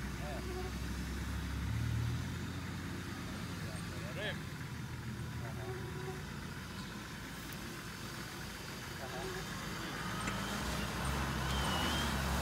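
A safari vehicle driving along a drier track produces a steady low engine rumble that stays constant throughout, with faint talking in the background.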